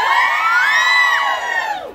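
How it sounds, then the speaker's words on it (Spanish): Women in a baptism party audience let out a shrill, high-pitched scream that rises and bends before fading, loud and alone for about two seconds. "el grito de las mujeres."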